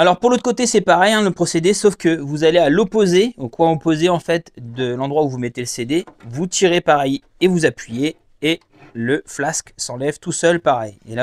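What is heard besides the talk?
No everyday noises stand out.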